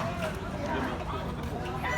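A rooster crows at a game farm, the call rising over steady background chatter from people talking nearby, with other fowl sounds blending into the busy farmyard din.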